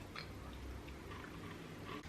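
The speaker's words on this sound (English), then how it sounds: "I need to chew my food before it goes down." Close, soft chewing of sushi during a mukbang, wet squishy mouth sounds repeating steadily over a low background hum.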